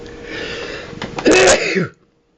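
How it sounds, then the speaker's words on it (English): A single sharp sneeze bursts out after a short wind-up breath, loud and close, then silence. "Getting ready to sneeze here."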